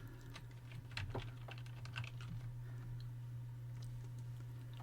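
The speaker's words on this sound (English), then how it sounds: "I'm going to type src equals double quotations" Keys on a computer keyboard clatter in a steady run of quick, close taps over a constant low electrical hum, with no talking.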